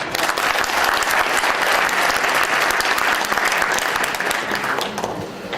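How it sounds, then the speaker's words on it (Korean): Audience at a Wonkwang University architecture department 40th anniversary event applauds the university president in encouragement; loud, sustained crowd clapping throughout, tapering slightly at the end. "김도정 총장에게 격려의 박수!"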